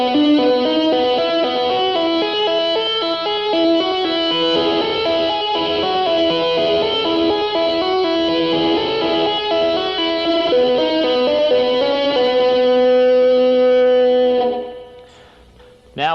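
Electric guitar lick played through heavy distortion, with dense sustained notes moving steadily for about fifteen seconds, loud and alone, then cut off abruptly.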